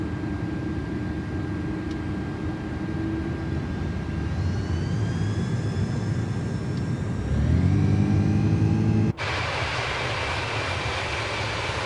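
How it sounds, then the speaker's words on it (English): Airbus jet engines spooling up to takeoff/go-around thrust in Microsoft Flight Simulator, a steady roaring hum with rising whining tones that swell louder, then an abrupt cut to a broader rushing roar. "We are going into Toga so that we can maintain a rate of climb"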